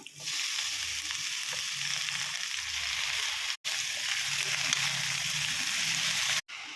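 Amaranth stem greens fry in a pan for a Kannada-style palya, giving a steady loud sizzle with light stirring scrapes, briefly cut off twice.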